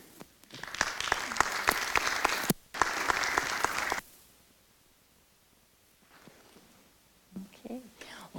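An audience applauds to welcome speaker Sarah Walker at a talk on the global economy, a loud, dense burst of clapping that pauses briefly, resumes, then stops abruptly, followed by quiet and faint talking.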